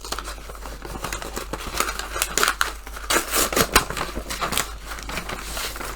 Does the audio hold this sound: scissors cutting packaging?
yes